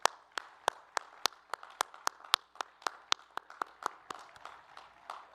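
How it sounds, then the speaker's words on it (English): Sparse, evenly spaced claps at a university engineering commencement ceremony, a single pair of hands or very few people clapping in a slow steady rhythm, fairly faint in a quiet hall. "Let's give them all a round of applause and thank them for their dedication."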